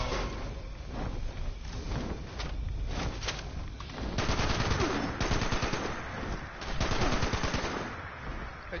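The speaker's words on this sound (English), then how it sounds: "Quit shooting at me." Rapid gunfire in the video game Fallout 76, bursts of automatic shots rattling in dense volleys, loud and close, building in intensity with brief breaks between strings of fire.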